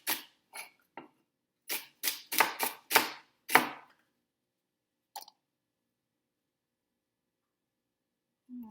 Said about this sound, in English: Celery is one of my favorite things to chop, actually.